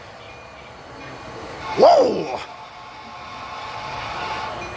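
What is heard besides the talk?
model train passing on museum railroad layout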